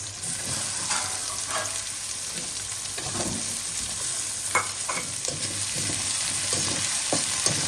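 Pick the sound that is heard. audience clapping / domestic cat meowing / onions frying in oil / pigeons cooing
onions frying in oil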